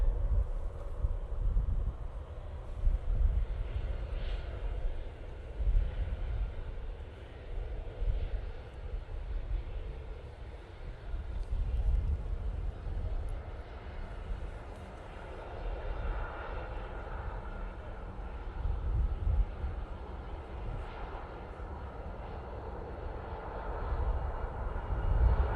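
At Manchester Airport, a KLM airliner comes in on short final and touches down. A distant rumbling engine drone swells and fades over about twenty-five seconds, mixed with gusty wind buffeting the microphone.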